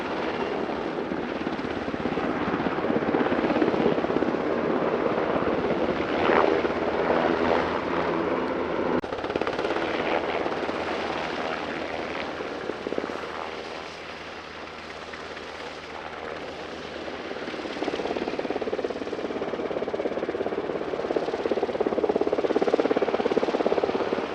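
A Swedish Sikorsky HKP16 Black Hawk flies at an air show, its rotor and turbine producing a loud, continuous throbbing roar that dips briefly midway as it passes and then swells again.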